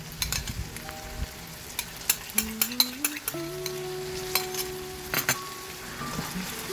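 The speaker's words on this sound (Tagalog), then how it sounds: "At saka natin haluin mabuti para ma-coat ng sauce yung bawat piraso ng ating minced pork." Minced pork being stirred through a sauce in a pan gives a low sizzle under scattered spoon clinks and scrapes against the metal, close and fairly quiet.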